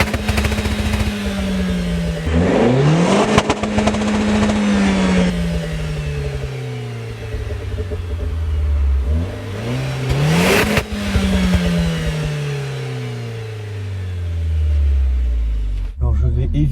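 A Renault Clio 4 RS turbo engine revs outside the car, the note climbing and falling repeatedly with loud throttle blips and sharp pops, heard from nearby.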